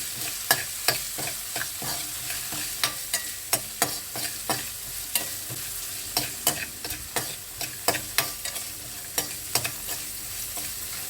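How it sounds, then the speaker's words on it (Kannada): Peas frying in oil in a pan while a spatula stirs them, a steady sizzle punctuated by frequent sharp scraping clacks of the utensil against the pan, close and alone. "ಬಟಾಣಿಗೆ ಹಾಕ್ಕೊಂಡಿರ್ತೀವಿ ನಾವು ನೋಡ್ಕೊಂಡು ಹಾಕ್ಕೊಳ್ಳಿ ಸ್ವಲ್ಪ ಚೆನ್ನಾಗಿ ಫ್ರೈ ಆಗಲಿ"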